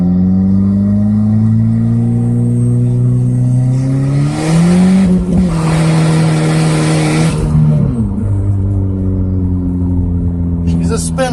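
A race car with soft-compound drag tires spins its tires in first and second gear, the engine roaring loud and close as it revs up through a gear change and then falls away.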